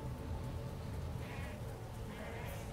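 Goat-like monsters in the Path of Exile video game give bleating, sheep-like cries amid dense, continuous game noise and combat effects.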